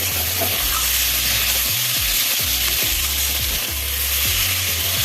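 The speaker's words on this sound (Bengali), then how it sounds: "আদা আর জিরে পেস্ট করা এটা এবার ভালোভাবে এটাকে নেড়ে নিব যে ভালো করে নেড়ে নিচ্ছি এটাকে" Ginger and cumin paste being stirred in a frying pan for a pointed gourd curry, a loud continuous sizzle broken by scraping strokes of the spatula, close up and with no voice.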